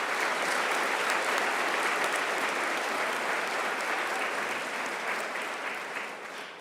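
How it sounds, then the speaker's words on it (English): An audience at a career and technical programs graduation ceremony gives sustained applause, a dense even wash of many hands clapping that holds steady and then slowly fades toward the end. "Can we give them one more round of applause"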